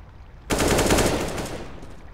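A sudden loud burst of rapid video-game gunfire, shots blurring into a dense roar for over a second before tailing off.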